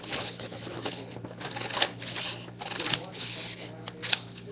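Scissors cut through paper sheets along a drawn pen line in a run of crisp snipping and rustling, close up, with talk over it.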